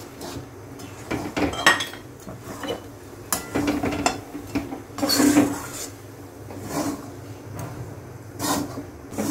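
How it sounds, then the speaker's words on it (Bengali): A spoon works rice flour into milk in a pot for a sweet pitha or payesh, producing repeated scraping and clinking strokes against the metal, close and moderately loud, with no speech. "আর এখন নাড়তে থাকতে হবে।"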